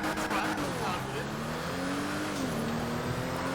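The Benefactor Vorschlaghammer, an AMG Hammer-style car in GTA 5 Online, accelerates with a loud, rising engine whine that shifts pitch through gear changes, with a voice talking over it.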